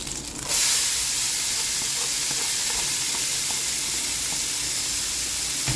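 Vegetables are tipped into a hot pan over browned meat for a side dish, setting off a loud burst of frying that settles into a steady, close, hissing sizzle.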